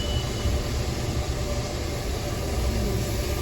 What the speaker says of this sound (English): y'all gonna hear the car wash right now.